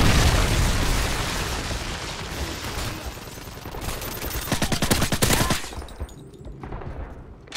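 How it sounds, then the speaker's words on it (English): Missile strike explosions and rapid gunfire from a video game's Predator missile killstreak during a team deathmatch, a dense roaring burst of blasts and crackling shots that thins out near the end. "Predator missile inbound."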